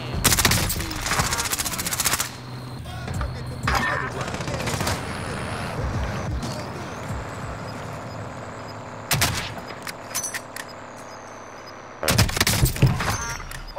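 Rapid bursts of video game gunfire crackle loudly in several clusters, with quieter stretches of game noise between them and a voice talking over parts of the action.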